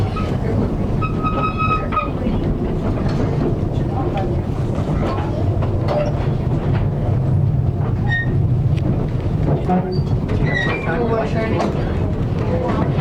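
Cripple Creek & Victor narrow gauge train rolling along, a steady loud rumble and rattle of the cars throughout, with brief whistle-like tones in places and people talking faintly nearby.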